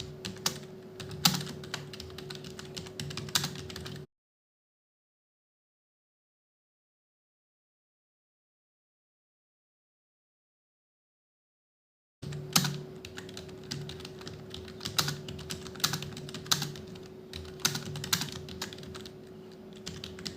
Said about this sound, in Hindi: आपने टाइपिंग करनी है।